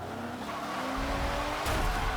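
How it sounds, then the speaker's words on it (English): Ford Falcon FG race car in Forza Motorsport 7 on Circuit of the Americas, engine droning loudly with a rising whine as tires squeal through an understeering corner, brief and continuous. "We're in the Ford Falcon FG again, understeering our way through the circuit of the Americas."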